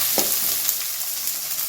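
Green chillies fry in hot oil in a home kitchen, making a brief, even crackling sizzle close by with light scraping at the start.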